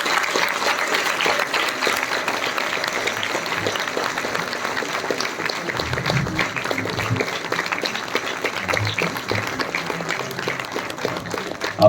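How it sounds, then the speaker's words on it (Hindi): An audience applauds at an award ceremony for meritorious students in Shimla, with steady, dense clapping from a large crowd that continues at a constant level throughout. "तालियां बजती रहे, जोरदार तालियां होनी चाहिए।"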